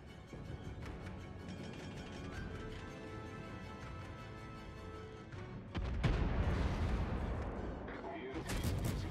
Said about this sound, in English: That blind fire.